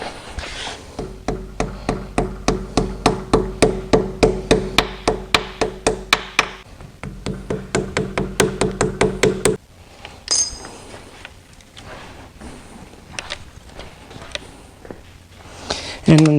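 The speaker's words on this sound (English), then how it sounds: "you simply hit them in with the hammer or mallet" Cam seals being hammered into a Porsche 911 996 M96 engine with a hammer or mallet, a fast steady run of sharp metallic blows in two bursts, followed by quieter clinks and handling noises.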